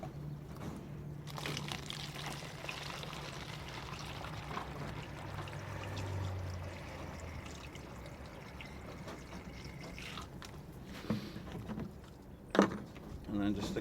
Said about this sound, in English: it's just a case of getting a funnel and then just pouring in the water